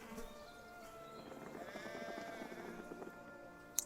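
Sheep bleating in the Pillars of the Earth video game, a wavering, harmonic bleat swelling in the middle of a quiet scene, faint and close, followed by a small sharp click at the end.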